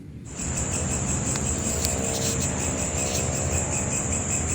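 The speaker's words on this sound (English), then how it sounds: "The carpenter bee is a large type of bee with its bluish-black color" A large bluish-black carpenter bee makes a steady, continuous high insect drone that runs unbroken from start to finish, fairly loud and close, with no voices.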